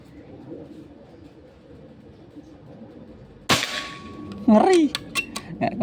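A single sharp crack from a Pajero gen 5 cap gun, loud and close, followed by a lingering echoing tail, a faint ringing tone and scattered clicks, with a voice briefly heard afterward.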